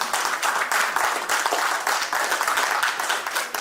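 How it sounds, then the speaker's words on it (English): Sustained, dense applause from a gala crowd at the Brightlight Projects Gala 2022, honoring a guest. The clapping is close and full, steady for several seconds with no speech over it. "Please clap for the gentleman."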